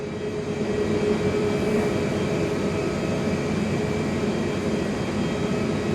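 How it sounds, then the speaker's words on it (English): Virgin Australia Boeing 737-800 MAX taxiing out for takeoff at Perth Airport, a steady, loud broadband jet engine roar heard from an indoor viewing platform, with no talking. "And taxiing out, just about to see it, is a Virgin Aussie 737-800 MAX. Taxiing out for takeoff."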